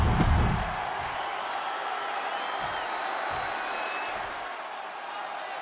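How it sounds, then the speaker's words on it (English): A large arena crowd in Chicago roars in a sustained ovation during a WWE 2K26 wrestling match between CM Punk and Eddie Guerrero, a broad steady wash of cheering after a brief thump at the start. "Just listen to this ovation"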